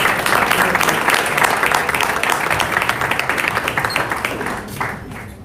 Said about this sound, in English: Let's give her a big round of applause for these unbelievable award winners.